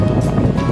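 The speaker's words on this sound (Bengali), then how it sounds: "প্রচণ্ড হাওয়া দিচ্ছে" Strong wind blows across an outdoor hotel lawn in Puri at night, a brief, loud, close rush of buffeting air against the microphone with no break.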